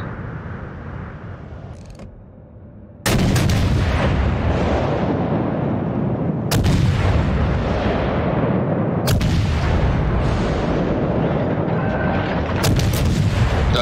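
Heavy naval gunfire in World of Warships: loud booming salvos at about 3, 6.5, 9 and 12.5 seconds, each one rolling into a long, dense rumble with no pause between shots.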